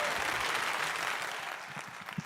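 Audience applause at an online concert, a steady wash of clapping that holds evenly, then thins toward the end with a few separate, louder claps standing out.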